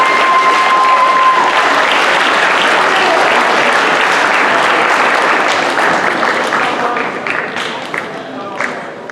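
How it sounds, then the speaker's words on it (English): Sustained applause from a crowd in a school assembly hall for recognized students, dense and steady, thinning toward the end with a few scattered claps. "another big round of applause for all of our students who were recognized today"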